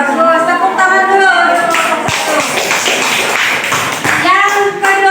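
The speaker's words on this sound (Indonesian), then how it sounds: "Tepuk tangan dulu." A classroom of students claps hands together, dense overlapping claps mixed with children's voices and chatter for several seconds.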